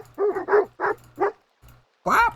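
Wolves in the video game Lords & Villeins bark and yip in a run of four short bursts, then a longer howling bark, close and fairly loud with a low hum underneath.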